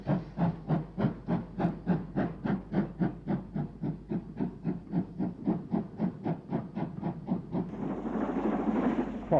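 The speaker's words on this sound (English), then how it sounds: "This is Castle Class 460 locomotive number 5063, Earl Baldwin" A Castle Class 4-6-0 steam locomotive, No. 5063 Earl Baldwin, works an up express at Banbury, its exhaust beats coming in a fast, steady rhythm of sharp chuffs, then giving way to a rushing hiss and rumble as it passes.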